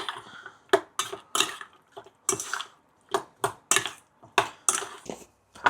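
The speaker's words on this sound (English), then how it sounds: "Okay, give that a little mix first." Pork ribs are mixed by hand in a bowl with a sesame oil and brandy marinade, making a run of irregular wet squelches and light clinks close by with short pauses between them.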